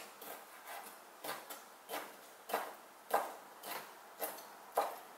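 A knife chopping frozen tail-on shrimp on a board for a Korean steamed egg dish, about a dozen quiet, evenly spaced thuds in a steady rhythm, close and without talk.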